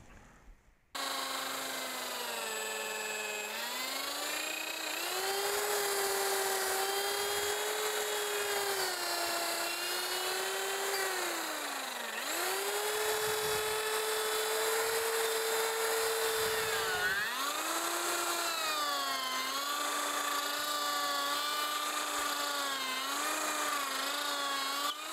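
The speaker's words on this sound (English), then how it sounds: "The thing I'm going to do now is to drill two holes here that goes straight through." A power drill bores two holes straight through a wooden block for a mason bee hive, its steady motor whine rising and falling in pitch as the bit loads and frees, loud and continuous with brief pauses between passes.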